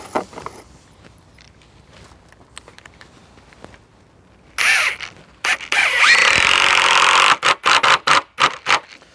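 Cordless power screwdriver driving screws into timber featheredge cladding, loud close bursts of whirring motor in short repeated runs, with a long continuous drive followed by several quick stop-start pulses.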